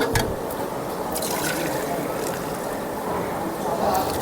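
Buffalo milk pours into a container, a continuous splashing liquid stream with a few drips, heard alongside nearby voices talking.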